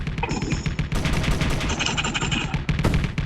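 Rapid turret gunfire rattles continuously in a Space Engineers space battle between warships, dense overlapping bursts with metallic impacts filling the short stretch.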